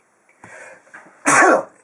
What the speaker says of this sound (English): Wait a second. I gotta sneeze.